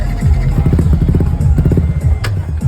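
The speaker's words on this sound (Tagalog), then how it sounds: "Kaya painitin na natin ang makina." Sniper motorcycle engine idling and warming up nearby, a loud, steady pulsing chug with small clattering ticks, the machine under inspection at a judged event.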